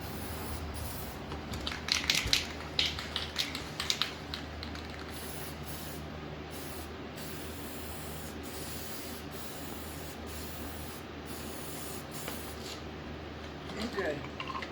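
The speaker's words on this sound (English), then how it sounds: "Whenever you do rattle can, you always want to shake your can almost every time." Aerosol rattle-can spray paint hissing over engine parts being prepped for a 5.4L 4V engine, steady close spraying in repeated bursts with brief pauses, light background voice.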